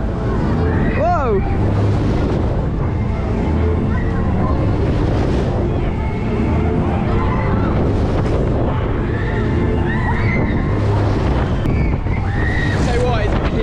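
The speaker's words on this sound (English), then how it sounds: "Say what, it's windy today" Strong wind buffets the microphone in a constant roar over water at a funfair in Newton Aycliffe, with voices speaking faintly beneath it.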